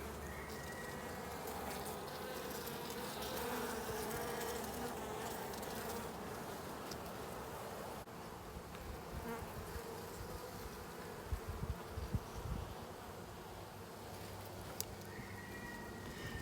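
A thick swarm of honey bees in an open hive hums continuously up close, a steady buzzing wash with a few soft knocks and clicks near the end.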